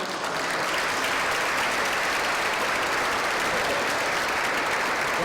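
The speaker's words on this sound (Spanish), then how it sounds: "vamos a recibirlos con un fuerte aplauso" An audience gives a strong, sustained round of applause welcoming guests, a dense, continuous clapping that stays loud throughout without speech.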